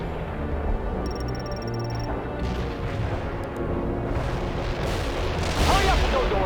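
Incoming artillery fire in the real-time strategy game World in Conflict, a steady rumble of distant booms and blasts that swells toward the end, set within a dense battlefield din with no voices.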